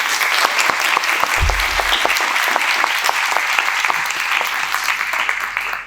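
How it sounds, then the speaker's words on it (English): Audience applause fills a keynote address at the Chicago Small Biz Expo, a steady, dense wash of many hands clapping that holds loud for about six seconds before tapering off at the end. "Please join me in giving them a round of applause"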